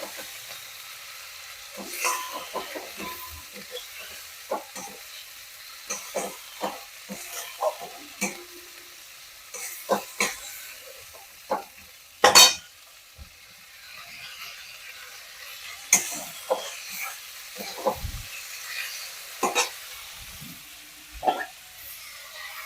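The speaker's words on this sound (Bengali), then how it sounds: "মশলায় সামান্য একটু জল দিয়ে মশলাটা কষিয়ে নিচ্ছি।" Ground cumin and ginger spice paste with turmeric being stir-fried in a pan with a splash of water, a soft low sizzle broken by frequent scraping stirs and sharp spatula knocks, close by.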